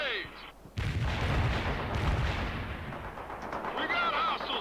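Heavy gunfire and explosive grenade blasts in the World in Conflict video game, a dense, loud barrage that thunders on almost continuously with low booms, while faint voices come and go beneath it.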